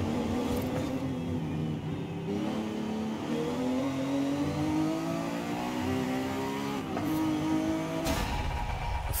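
A V12 car in Forza Horizon 5 revs hard and continuously, its engine pitch climbing steadily through a sustained high-revving run, loud and close, then dropping briefly near the end before picking up again.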